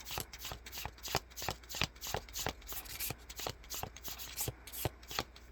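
Close, rhythmic card shuffling, a quick run of soft slaps and riffles repeating steadily with no talking.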